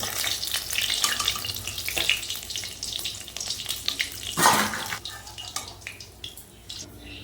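Small puti fish frying in hot oil in a kitchen pan, a continuous close sizzle with occasional scrapes and a louder burst midway, easing off toward the end.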